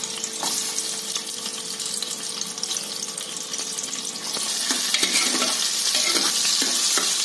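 Onion goes into hot oil in a pressure cooker for a spicy mutton soup, giving a close, steady frying sizzle that grows a bit louder partway through, with light stirring clicks and scrapes.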